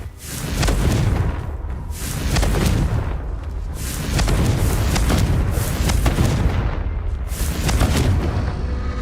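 Repeated heavy booming blasts from the Confringo fire curse in Hogwarts Legacy, several loud explosive bursts rolling one after another with dense rumbling low end and no talking.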